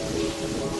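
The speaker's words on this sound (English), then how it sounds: "Oh, it's raining." Steady rain falling in the Terraria video game, a dense, even hiss that holds at moderate loudness through the short stretch without any voices.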